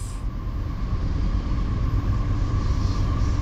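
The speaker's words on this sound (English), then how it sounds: "He's chugging, look at the smoke." A CSX freight locomotive leading a long manifest train rumbles past at close range as a deep, steady, loud roar with a faint engine hum on top, westbound on Track 2.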